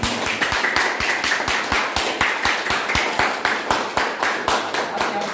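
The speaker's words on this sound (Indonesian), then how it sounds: "Kita beri aplaus dulu untuk kelompok 3." A small group in a classroom claps in unison for a group presentation, steady rhythmic claps repeating at an even pace, fairly close and unaccompanied by talk.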